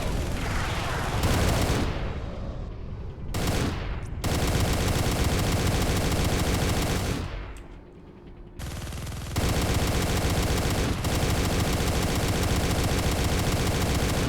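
AC-2 autocannon fire from a mech in MechWarrior: Living Legends, loud sustained rapid bursts of heavy gunfire with a couple of short breaks, dense and continuous.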